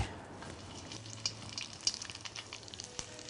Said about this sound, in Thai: ทอดให้ไฟแรงแล้วฟูอย่างนี้นะครับ